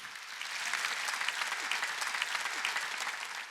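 Steady applause from a church congregation during a Sunday worship sermon, a dense even patter of clapping that swells in and holds for several seconds.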